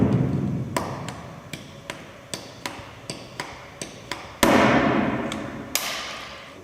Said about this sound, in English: firmly fixed using the enclosed stainless steel rivets and a hand rivet gun